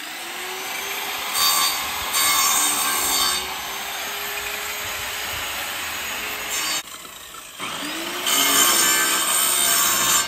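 Timber is hand-sawn to make frame pegs beside a koi pond build, a steady close rasping stroke that runs continuously with one brief pause partway through.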